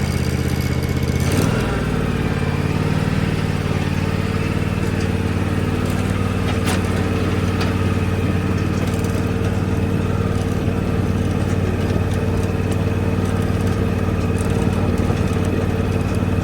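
A small tractor engine runs steadily and loudly nearby on a farm, a constant droning hum with a brief rev or clunk near the start.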